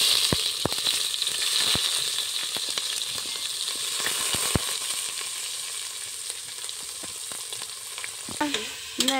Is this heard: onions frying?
yes